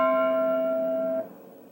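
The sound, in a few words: synthesized bell tone with minor third companion tones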